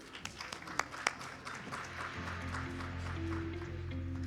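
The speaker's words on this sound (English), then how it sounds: "a huge round of applause," Scattered claps from a corporate fireside-chat audience thanking the speakers, a few sharp close hand claps early on, then a sustained low hum and room noise as the clapping fades out.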